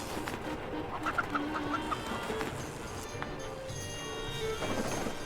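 Chicken clucking in World of Warcraft, a short run of quick clucks amid busy game effects and background sounds.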